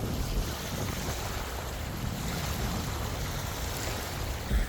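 Strong wind roars steadily across an open lakeside space, with a constant rushing buffet and low rumble of gusts hitting the microphone, no voices.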